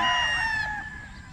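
A gamefowl rooster at a banded stag event crows once, loud and close, its drawn-out call tapering off after about half a second and leaving faint background noise.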